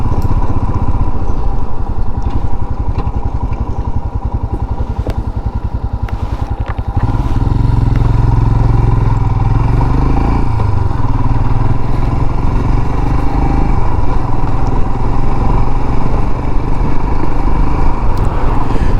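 A motorcycle rides along quiet back lanes in the East Riding of Yorkshire, its engine droning steadily and close for the whole stretch, deepening and growing louder about a third of the way through as it pulls harder, with no talk.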